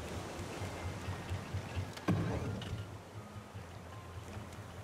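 Boat engines reversing in the survival game Raft, heard as a steady low mechanical rumble with a watery wash over it and one brief knock partway through, with no voices.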